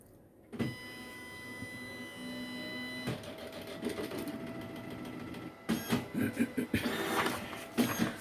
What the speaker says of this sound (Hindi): फिर से इसको ऑन करेंगे तो पेपर निकल के बाहर आ जाएगा